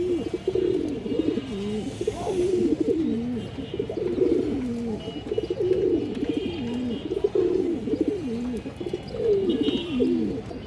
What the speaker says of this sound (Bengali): কবুতরটা একদম পুরান জাতের খরা গলা কবুতর দর্শক এগুলা